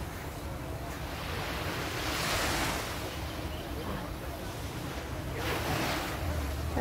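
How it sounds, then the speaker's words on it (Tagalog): Waves wash onto the beach at Deep Water Bay in Hong Kong, a soft continuous surf with two gentle swells rising and fading, mixed with light wind rumble on the microphone. "And this is the beach."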